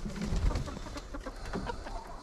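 A small flock of chickens on a snowy Arkansas homestead clucks softly and faintly in a brief, quiet stretch of low murmuring calls.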